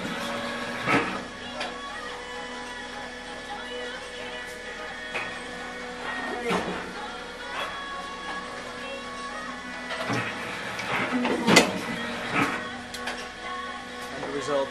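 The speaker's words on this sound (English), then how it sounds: "And then the machine is gonna cut it out automatically." An automatic cutting machine slicing fabric parts for newsboy and ivy caps hums and clicks steadily in a workshop, with repeated sharp ticks while people talk over it.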